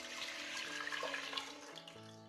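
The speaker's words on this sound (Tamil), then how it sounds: "தண்ணி ஊற்றிடுங்க." Water splashes and trickles steadily into a pressure cooker while cooking poori masala, a continuous pouring sound with a rising, hollow tone as it fills, heard close up.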